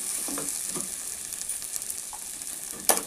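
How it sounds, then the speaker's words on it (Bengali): Cabbage curry with fish head frying in a pan while being stirred, a soft steady sizzle with a few scraping spoon strokes and a louder clack near the end, no talking. "তার মধ্যে একটু গরম মশলা অ্যাড করে দিচ্ছি, দিয়ে আমি নাড়াচাড়া করে নেব,"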